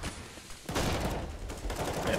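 Gunfire bursts in Counter-Strike on the map Train, a sharp onset followed by continuous dense shots and rattling, loud and close, during a professional esports match.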